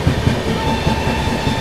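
A weekly Shirdi-to-Tirupati express train rolls past on the rails, a loud, steady rumble with faint rhythmic clatter of wheels throughout.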